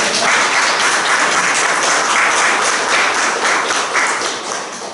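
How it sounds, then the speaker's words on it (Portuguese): Church congregation applauding after a Gospel reading, a loud, continuous wall of clapping filling a reverberant space, steady throughout and easing slightly in the final second. "Vamos aplaudir essa palavra."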